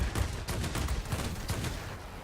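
Cannons on a Yak-3T fighter plane in the game World of Warplanes fire in rapid bursts, a dense, loud, continuous rattle of shots over the engine drone, with no talking.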